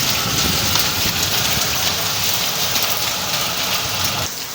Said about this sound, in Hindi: तो ये सारे पूरे ओले हैं जो गिर रहे हैं अभी,